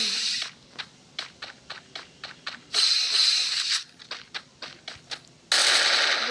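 Gunfire in the mobile battle royale game Free Fire, an M1 among the weapons: a run of rapid, evenly spaced crisp shots in short bursts, with a few longer sustained noisy blasts between them, loud and close, no talking.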